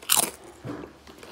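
Takis Waves chips crunch in a close bite: a sharp, crisp crunch followed by a softer second chew, with no talking.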